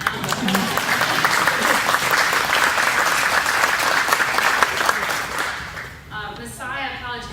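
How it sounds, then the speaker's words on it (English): A roomful of people applauds at an alumni award ceremony at Messiah College, a loud sustained wash of clapping that begins to thin near the end as a speaking voice returns. "Let's clap for them."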